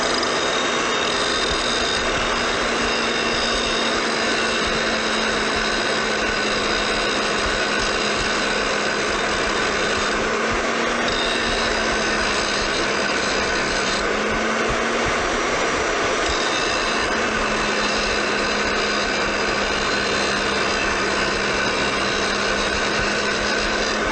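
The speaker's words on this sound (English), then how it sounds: "gonna go ahead and just angle grind a couple of flat spots at 180 degrees there" An angle grinder grinds flat spots onto a Craftsman 6-inch bench vise, keeping up a loud, continuous high-pitched whine and hiss throughout with small shifts in pitch as it bears on the metal, with no talking.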